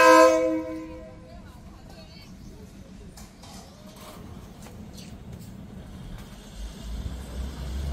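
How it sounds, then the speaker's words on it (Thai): A train arrives at the Maeklong railway market in Samut Songkhram: a loud horn blast opens, then a low rumble of the approaching train fills in beneath chatter from the crowd. "มาแล้วจ้ ารถไฟมาแล้วจ้า"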